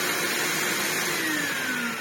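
A Vax New Wave HF1400 vacuum cleaner with a faulty motor runs steadily, a loud continuous whine and roar with a slight falling tone near the end, and no voices.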